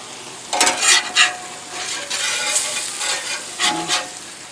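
Honey lemon cauliflower steak grilling on a Blackstone griddle, a steady soft sizzle broken by several quick scraping and stirring strokes of a metal spatula, close by with no talking.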